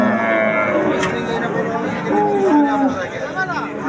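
A pregnant cow at a livestock market gives several drawn-out moos that slide downward in pitch, set against crowd chatter and nearby talking.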